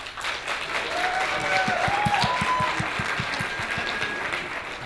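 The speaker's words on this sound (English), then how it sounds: "Clap now." Audience at a live security conference speed debate in Austin claps in a steady, moderately loud round of applause, with faint voices and a few whoops over it.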